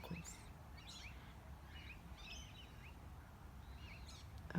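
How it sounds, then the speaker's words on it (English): Birds call at dusk in the Australian outdoors, faint and somewhat distant chirps scattered over a steady background hush, with no one speaking. "Oh, more birds. More birds."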